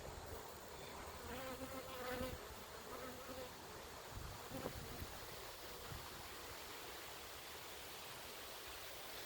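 Honeybees buzzing around a hive during a fall hive inspection on a nice day, a continuous soft swarm drone with faint rising whines of individual bees, quiet and somewhat distant.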